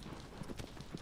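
Horse hooves clip-clop at a steady walking rhythm in Shadow of the Colossus, several soft, close thuds spread over a second with faint background ambience.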